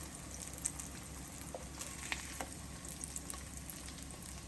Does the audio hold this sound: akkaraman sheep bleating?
no